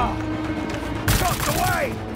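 Gunfire erupts in Marvel's Spider-Man 2, a sudden loud burst of sharp rapid shots partway through after steady game ambience, with a brief whooshing sweep following.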